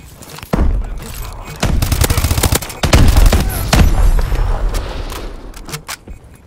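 Loud bursts of rapid gunfire in the video game Call of Duty: Advanced Warfare crackle in clusters, with booming shots and sharp cracks overlapping, close and intense.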